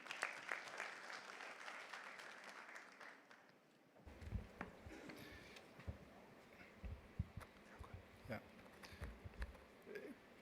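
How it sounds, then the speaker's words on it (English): Audience applause at a Pan-African conference on environment, climate change and health, a steady dense clapping for the first four seconds that gives way to a roomy hall with scattered knocks and a voice speaking. "give him a round of applause as he comes"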